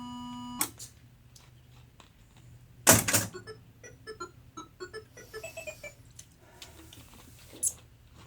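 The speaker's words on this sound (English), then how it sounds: "Why does it beep like that, do you know?" A steady electronic tone cuts off, then a sharp burst and a series of short mechanical clicks and beeps follow, fairly close and clear.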